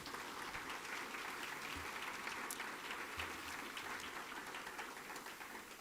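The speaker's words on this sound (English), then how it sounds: "One more round of applause for you guys." Audience applause for 2021 U.S. Department of Education Green Ribbon Schools honorees at a ceremony, steady, sustained clapping from a crowd, fairly faint and distant throughout, without talk.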